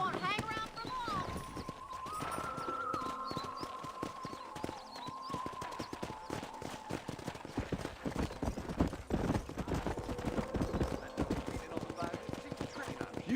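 Horses in the video game Red Dead Redemption, steady hoofbeats running throughout beneath a sustained musical tone and occasional speech, fairly loud and continuous.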